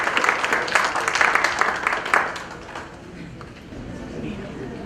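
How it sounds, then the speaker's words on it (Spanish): Audience applause for a lawyer from Cajamarca as he begins his talk at a national notaries' conference, dense clapping that is louder at first and thins out after about two seconds. "Un aplauso para él, por favor,"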